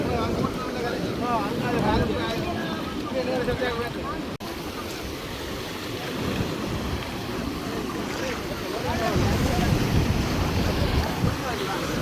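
Sea waves breaking and washing up on a beach in Jaffna during beach-seine net fishing, a continuous loud rush of surf with wind buffeting the microphone and faint voices mixed in throughout.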